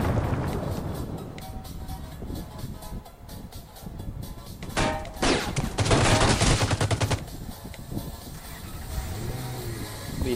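Video game gunfire in rapid bursts and fast automatic volleys, loud and dense with busy game sounds behind it, with a heavier sustained stretch of shooting in the middle.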